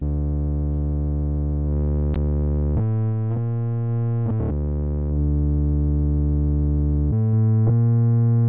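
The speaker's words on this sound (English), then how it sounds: "the sine wave softens things up" A steady, sustained synthesizer tone with a smooth, pure sine-like timbre, changing pitch a few times with brief clicks between notes.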